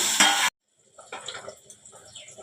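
Water is poured into a cooking pan of frying cauliflower and spices for vegetable dal, a brief sizzling rush followed by softer bubbling and hissing.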